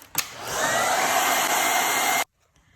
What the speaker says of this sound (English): And then you take the hairdryer and dry it out.